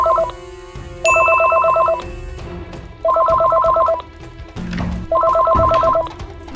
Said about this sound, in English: I'm gonna play a phone call sound.